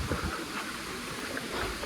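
Steady broadband rush of water at Chinna Suruli Falls in Theni district, a dense continuous roar filling the clip without pause, fairly close and even in level, with no talk over it.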